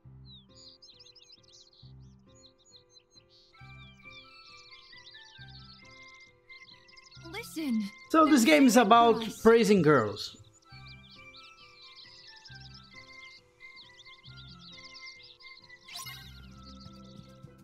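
A bird chirps and tweets in Kingdom Hearts 3's Kingdom of Corona, light repeated calls threading through soft game ambience while someone talks over the middle stretch.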